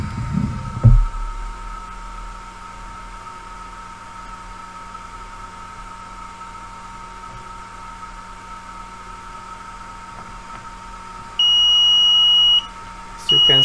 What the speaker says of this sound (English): if I lift it up over 45-50 degrees angle, then it will start an alarm